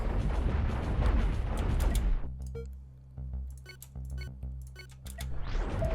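Spaceship weapons in the space combat game Cosmoteer fire in dense bursts, heavy booming shots and rapid impacts that crowd the first two seconds, then thin to scattered sharp pops over a low rumble before swelling again near the end.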